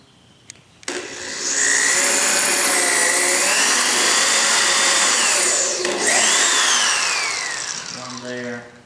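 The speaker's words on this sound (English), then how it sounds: "now we're going to drill 2 pilot holes in your board in the end." A power drill whines loudly and steadily for several seconds while drilling pilot holes into a board end, its pitch shifting as it bites in, briefly pauses, then runs again before winding down.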